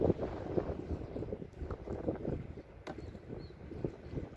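Gusting wind buffets a small fishing boat out on open water, a steady rumbling roar of microphone wind noise with irregular surges, close and loud throughout, no voices.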